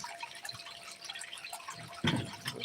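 Water drips and splashes while gold panning gear is rinsed off at a creek cleanout, light and close with a brief louder splash near the end.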